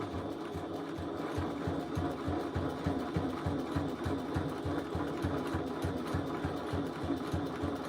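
A sewing machine top stitches a second line an eighth of an inch from the edge, its needle clattering in a fast, even rhythm over a steady motor drone, close and uninterrupted.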